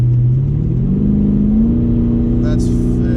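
A 1000hp Chevrolet Camaro ZL1 engine revs loudly while driving, a deep rumbling tone climbing steadily in pitch from inside the car, dominating throughout with a brief hiss near the end.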